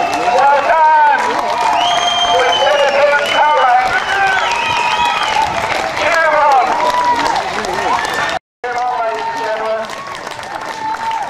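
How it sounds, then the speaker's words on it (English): A crowd claps and cheers for ultramarathon runner Yiannis Kouros finishing a six-day race in Colac, dense steady applause under a loud announcer's voice, with a brief dropout near the end. "Let's cheer him up and let's start the clapping."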